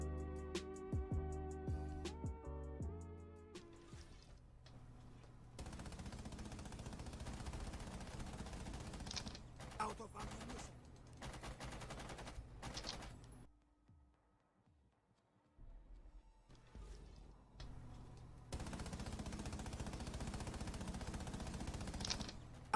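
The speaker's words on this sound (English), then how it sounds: "a suppressed gunshot on the other side of the building that would usually be silent, you would still hear it" Muffled, distant suppressed gunfire from the other side of a building pops in scattered bursts over a busy video game soundscape with music and rumble, the shots faint and dull rather than sharp.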